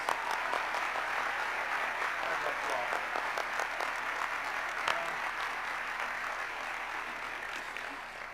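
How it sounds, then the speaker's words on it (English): A graduation ceremony audience at the University of St. Francis in Joliet, Illinois, applauds at length, a broad, even wash of clapping from a large hall, moderately distant and sustained without pause. "Please join me in one more round of applause for a very meritorious group of individuals."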